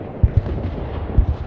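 Heavy bombing in the video game Broken Arrow, with a few low, booming impacts spaced apart over a rumbling battlefield background, fairly loud and close.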